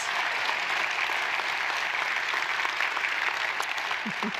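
A steady wash of audience applause honours the church staff at a school-system celebration of excellence held at Mountain Christian Church, dense and even from start to finish.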